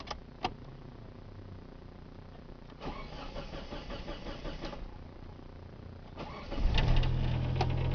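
A Geo car that has sat for a year cranks over briefly and fires into a cold start, then settles into a steady, rough idle after several seconds of quiet interior shuffling.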